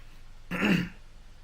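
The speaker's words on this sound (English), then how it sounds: "I got to totally cough right now, or I feel like I'm going to cough a lung" A single gruff throat clearing, half a second long, comes from a man and bursts out close and moderately loud between quiet pauses.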